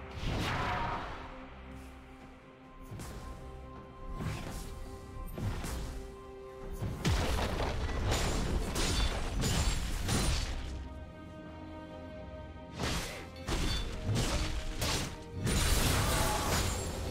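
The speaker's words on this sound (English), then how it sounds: "Red team's turret has been destroyed." Turret destruction in a League of Legends match, with a run of loud crashing impacts and mechanical clanks repeating at irregular intervals, layered over dense game effects.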